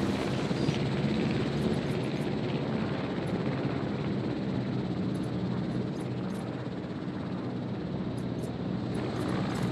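Helicopter in Jurassic World Evolution giving a continuous low rotor and engine drone that holds steady at a moderate level, with faint high chirps scattered over it.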